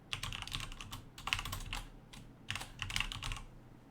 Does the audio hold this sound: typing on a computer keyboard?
yes